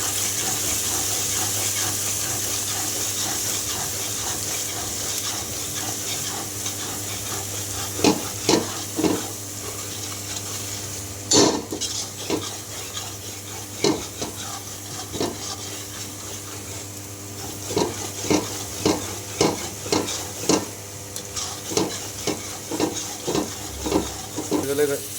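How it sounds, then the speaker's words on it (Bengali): Cumin, coriander powder and sugar being sautéed in a pan for ghugni, with steady frying sizzle and repeated scraping stir strokes, some louder clusters of clattering stirs near the middle and end. "এবার এটাকে ভালো করে সতে করে নেব।"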